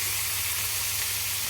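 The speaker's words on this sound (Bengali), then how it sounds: "এদিকে আমি মশলা ভুনা করতেছি" Spices and potatoes frying together in a pan for chicken curry: a steady, even sizzling hiss, close and continuous, with no talk.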